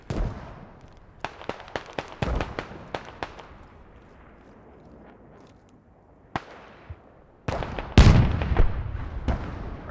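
HEAT rounds fire from a tank in Squad, with Iranian Armed Forces fighting in Fallujah: a rapid string of sharp cracks and bangs, then scattered shots and a heavy, close blast with rumbling tail.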